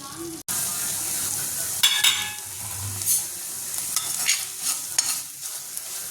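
A ladle stirs spinach fry in a pan on the stove, seasoned with salt and chilli, giving scraping strokes and soft sizzling in irregular bursts close by.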